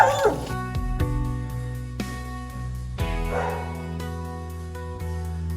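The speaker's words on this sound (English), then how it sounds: "We found the way, but there is a dog." A dog near a temple on a nature trail outside Kathmandu gives a few barks and yips at moderate distance over a steady humming background.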